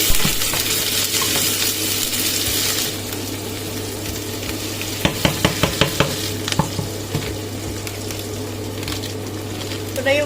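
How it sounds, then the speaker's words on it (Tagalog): Ground meat sautéing in a pan for shawarma, a steady sizzle with a loud hiss early on, then a run of sharp clinks and scrapes from a utensil against the pan midway. "Mag-gisa na tayo mga kaberks."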